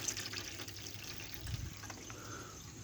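Water runs steadily through a siphon being tested in a house renovation, a faint continuous trickling and gurgling with small splashes, no talking.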